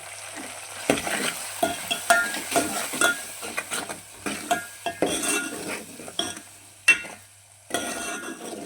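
Food stirred and frying in a pan on a home stove, with steady sizzling under repeated scraping and clinking of a spoon against the metal.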